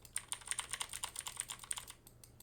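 Fingers type on a computer keyboard in a quick, uneven run of close keystrokes lasting about two seconds, with no voices.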